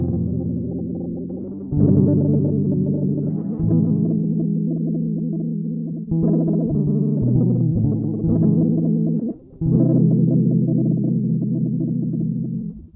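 An electric guitar played through a Poly Form effects pedal set for fast harmonization rings out in a series of sustained, layered chords, each change sharply struck and held, loud and close with no voices.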